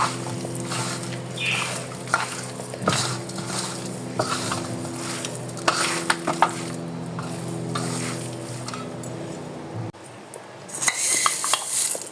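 Chicken pieces for chicken tikka boti being mixed by hand in a bowl after vinegar is poured over, with close wet squelching, stirring and clinks of the bowl, continuing for several seconds.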